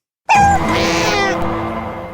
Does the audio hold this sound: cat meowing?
yes